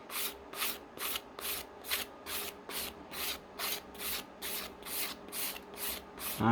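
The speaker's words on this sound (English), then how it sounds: "you just want to push forward with a sanding stick" A sanding stick is pushed forward over plastic model kit parts for a Johnny 5 toy version kit, giving about fifteen even, rhythmic rasping strokes at close range with no talk.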